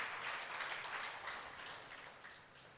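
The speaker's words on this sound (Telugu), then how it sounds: "ఆయనకు వద్దు గట్టిగా చప్పట్లు కొడతాం మా ఎండి గారికి." Soft, distant applause from the audience at a brand ambassadors' meeting in Madurai, Tamil Nadu, honoring the MD: a faint, even wash of clapping that slowly tapers off over a few seconds.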